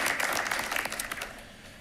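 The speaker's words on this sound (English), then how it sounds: "how about a round of applause for our boys indoor track and field athletes" Audience applause at a school board of education meeting honoring boys' indoor track and field athletes, a dense steady clatter of many hands that gradually thins and softens toward the end.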